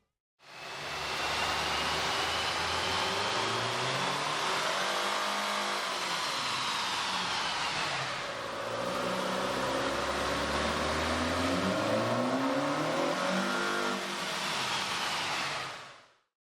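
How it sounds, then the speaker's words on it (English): A 2013 Nissan Altima 2.5L engine fitted with an AEM air intake revs on a dyno, a loud sustained roar that climbs in pitch, dips near the middle, then climbs again before cutting off. "Here's a comparison of the car's sound on the dyno with the stock OEM system versus"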